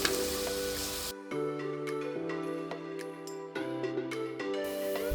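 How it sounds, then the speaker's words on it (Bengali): Finely chopped onions fry in oil, a close hiss that cuts out to a quieter bubbling layered with steady tonal hums, with no voices. "পেঁয়াজগুলোকে একটু লাল লাল করেই ভাজবো"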